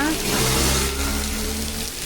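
Heavy rain with water pouring and splashing down steps, a loud, continuous rushing wash close by, with faint voices underneath.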